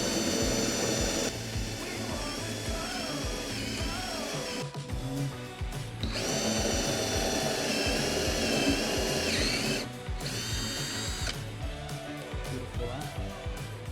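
A power drill runs in bursts while boring into wood for a desk shelf, its whining motor rising and stopping several times, close and loud, with a voice talking in between.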